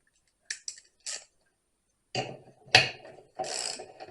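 A nut being tightened on a 70-year-old Stihl 070 chainsaw, with a few short close ratcheting clicks followed by longer grinding turns, loud and isolated in a quiet room.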